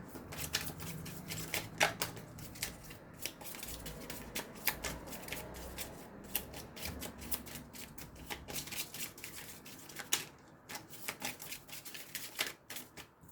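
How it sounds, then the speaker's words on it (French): Tarot cards from a witches' tarot deck are shuffled by hand in a quiet room, giving a long run of soft, rapid riffling and flicking clicks with no voices. "Avec le tarot des sorcières, je vais prendre 3 cartes pour voir quel message ou quelle énergie on a."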